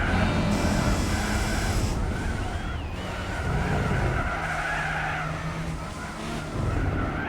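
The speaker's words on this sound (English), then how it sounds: "Ah, flinched and hit the brakes." A small 1.4-litre car in Gran Turismo 4 brakes hard, its tyres squealing and skidding loudly over a steady engine roar for several seconds, alone without talk.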